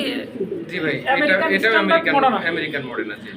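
Pigeons coo at a pigeon farm in Mirpur 11, largely buried under loud, close conversation between men.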